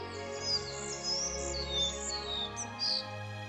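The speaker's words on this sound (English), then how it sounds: "A collared flycatcher is a daytime bird, and it is a typical forest bird." A collared flycatcher calls in a forest, several thin high chirps and short whistled phrases over a soft steady background, faint and a little distant.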